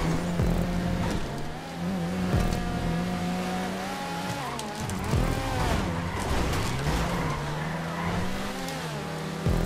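An Elegy sports car in GTA5 races flat out with a sustained engine drone that rises and falls through gear shifts and revs, loud and continuous, with the occasional tire squeal.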